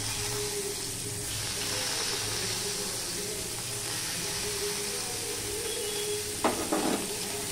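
Chopped onion fries in a pan with a steady, dense hiss that runs unbroken and close throughout, with a brief clatter near the end.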